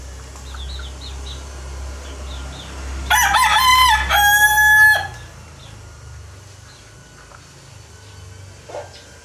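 A young stag rooster crows twice in quick succession, a strained, moderately close cock-a-doodle-doo over a low background hum, followed by quieter ambient noise and a faint distant cluck.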